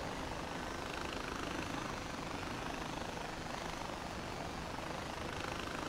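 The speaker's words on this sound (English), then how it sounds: "Now let's try and park our little helicopter thingy and find a boat." A helicopter flying in the video game Far Cry 4 gives a steady, dense rotor and engine roar that stays loud and unchanging throughout, with no talking.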